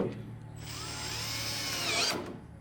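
A power drill whirs steadily, close and fairly loud, as screws are driven back into the headlight of a 2020 Chevy Silverado RST, a single continuous run ending abruptly.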